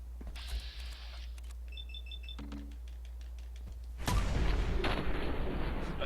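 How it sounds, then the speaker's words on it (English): Shotgun blasts in the video game Fallout 4, played on very hard difficulty: a loud, heavy thudding boom near the end follows quieter game clicks, mechanical tones and a sharp earlier shot, all over a steady low game hum. "That's a good solid sound on that shotgun. It's got a nice thud to it"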